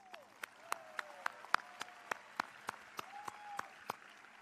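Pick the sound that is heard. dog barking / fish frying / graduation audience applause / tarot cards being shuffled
graduation audience applause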